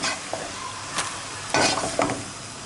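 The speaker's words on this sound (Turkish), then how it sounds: "bu şekilde etleri karıştırıyoruz" Diced beef searing in a hot pot with no other ingredients, a steady loud sizzle broken by scraping stirs of a spoon against the pot.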